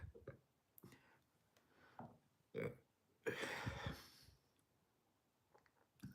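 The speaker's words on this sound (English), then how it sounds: "Got some pepper, a tincture burp right there." A man lets out a couple of short throaty burps after swallowing a homemade hot pepper tincture, spaced apart between quiet pauses, close and fairly soft.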